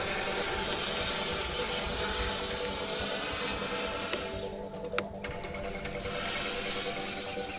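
A Horizon Hobby F-16 RC jet flies overhead with a loud, whining turbine roar that drops away midway, then swells again as it passes back.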